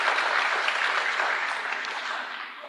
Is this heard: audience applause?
yes